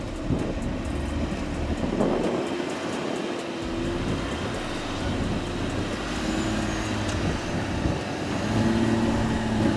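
A heavy SUV labours up an off-road slope on loose, poorly gripping soil, its engine droning and wheels spinning in one steady, loud rumble with shifting tones throughout.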